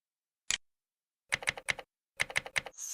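Someone types on a computer keyboard, giving a single key tap followed by two quick bursts of rapid, crisp keystrokes, close and clear against silence.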